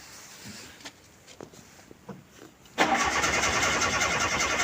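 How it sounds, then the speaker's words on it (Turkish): A Tofaş car's engine is cranked in an attempt to start it, with a few faint clicks and rustles followed by a sudden loud, steady mechanical roar up close. "Şimdi aracı çalıştıracağız."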